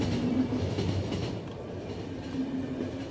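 An experimental train in poor condition rolls along the rails in the game The Final Station, a steady, close rumble with rhythmic clickety-clack that runs on without pause.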